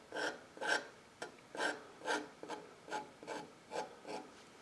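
Scratching strokes through paint on plywood, about nine rhythmic raspy scrapes evenly spaced, close and fairly quiet with no talk.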